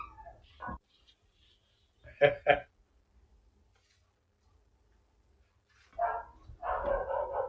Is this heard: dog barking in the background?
yes